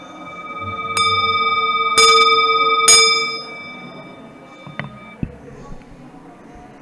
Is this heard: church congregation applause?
no